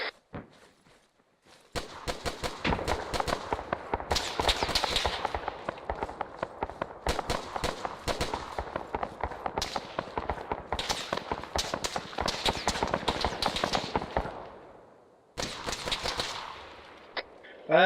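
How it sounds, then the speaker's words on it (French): Rapid bursts of gunfire and heavy cannon blasts in an ARMA III battle, dense and continuous with brief pauses, loud throughout. "C'était le canon."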